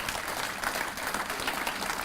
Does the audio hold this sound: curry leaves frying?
no